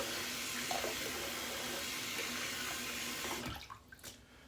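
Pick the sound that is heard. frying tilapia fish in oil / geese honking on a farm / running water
running water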